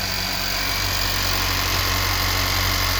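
A 2018 Honda Civic Si with a 1.5L turbo engine idles after new fuel injectors were fitted, giving a steady, even hum and faint vibration close up, with no talking.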